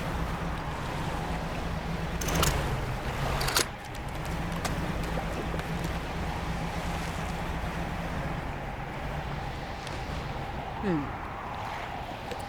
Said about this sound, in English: Please, try to keep your engine noise to a minimum.